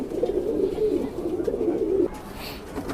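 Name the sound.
pigeons cooing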